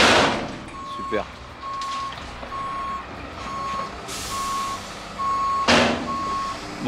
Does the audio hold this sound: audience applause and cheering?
no